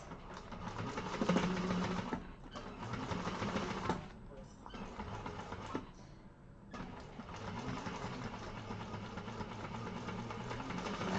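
Sewing machine stitching a Konin bowler bag with Decovil Heavy interfacing, a quiet, steady mechanical whir in short runs broken by brief pauses, heard faintly in a class setting.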